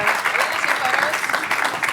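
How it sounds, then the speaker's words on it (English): A conference audience in a hotel ballroom gives the speakers a round of applause, a loud, dense burst of clapping with some talk mixed in, lasting under two seconds. "round of applause for these speakers"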